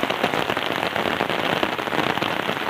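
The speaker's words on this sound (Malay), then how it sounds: "sedang hujan labek di sana ya" Heavy downpour in a village, with rain drumming densely and steadily on surfaces nearby, a loud, unbroken hiss and patter with no voices.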